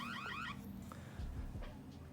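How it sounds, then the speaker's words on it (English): A smartphone rings out an alarm set off by a YAMAY SW022 smartwatch's find-phone feature, a short burst of rapidly warbling electronic tones at the start, then quieter room noise, faint and close. "when I press here and the watch is connected to the phone, it will vibrate here and it will alarm the phone"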